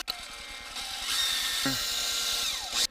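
A power drill with a 2.5mm bit whirs close by, spinning up in a short, steady high-pitched burst as it bores a hole for an M3 tap in a tank filler plate, then stops.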